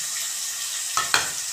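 Potatoes with salt, sugar, turmeric and chili powder frying in a pan at a village kitchen, a steady sizzle broken by two sharp stirring scrapes near the end.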